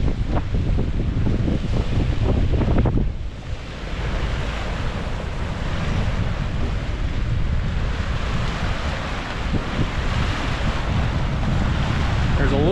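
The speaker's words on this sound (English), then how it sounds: "There's a little bit of a breeze" Steady breeze blowing over open water at the Straits of Mackinac, a continuous broadband rush with wind buffeting the microphone, a brief lull near the three-second mark, and faint surf-like washing beneath it throughout.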